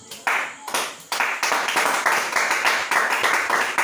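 A church congregation claps together in praise of Jesus Christ, a dense, steady run of hand claps swelling from a few scattered slaps into continuous loud rhythmic applause.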